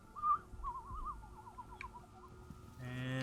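Warbling whistles from enemies hidden in bushes in the video game Assassin's Creed Origins: a loud opening whistle, then a wavering trill that fades over about two seconds, followed by a louder steady hum.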